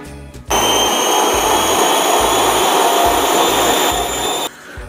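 A stand mixer whips mascarpone ganache for a Christmas Yule log, its motor starting abruptly and running loud and steady with a bright whir for about four seconds before cutting off, close and without talk.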